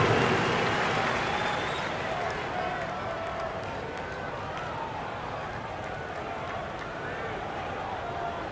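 Arena crowd noise and clapping during an NBA 2K27 basketball game break, applauding the Pacers breakdance crew, a steady wash of claps and murmur under faint background voices.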